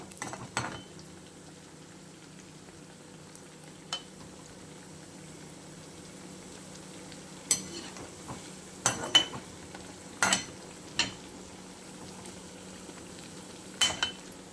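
Alsanda vadalu, fritters of black-eyed peas, fry in hot oil with a soft steady sizzle and bubbling, broken by a few sharp clinks and scrapes from utensils.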